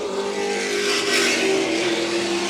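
Late model stock cars race past, led by a Toyota numbered 57, their engines a loud, steady, high-pitched roar that swells briefly toward the middle as the pack passes close, with no talk over it.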